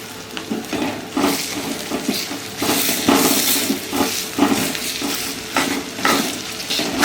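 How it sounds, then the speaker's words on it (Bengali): Chopped onions hitting hot oil with asafoetida in a pan, a loud crackling sizzle broken by repeated scraping stirs of a spoon against the pan, steady and close throughout. "এবার দিয়ে দেবো পেঁয়াজ কুচিগুলো"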